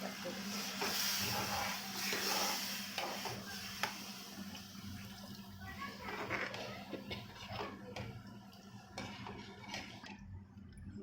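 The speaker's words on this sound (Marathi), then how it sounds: "चला आता आपण पाणी टाकूया." Water poured into a hot pan of vegetable for a Maharashtrian bhaji hisses and bubbles steadily, a faint, continuous steamy sizzle with small clinks and drips close by.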